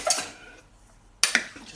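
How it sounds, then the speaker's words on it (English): Meatballs in tomato sauce get a quick stir inside a slow cooker: two short bursts of utensil clinks and scrapes against the pot, separated by a quiet pause, close and fairly soft. "I'm going to give that a quick stir"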